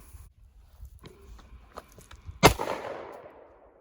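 A single loud, sharp gunshot from a gun loaded with rat shot rings out outdoors after quiet ambient sounds, with a short echoing tail.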